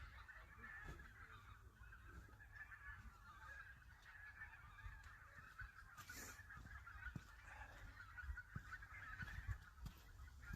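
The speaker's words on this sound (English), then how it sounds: "So many birds, yeah." A dense, continuous chorus of honking geese and other fowl, steady throughout with scattered louder calls rising above the flock.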